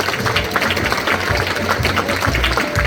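Audience at a BBC community awards ceremony in Derby giving a round of applause, loud dense clapping from a large crowd sustained throughout at close range.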